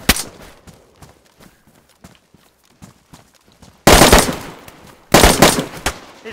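Gunfire in the DayZ video game: two loud, close bursts of rapid shots, each lasting about a second, after a stretch of quiet light footsteps and faint clicks.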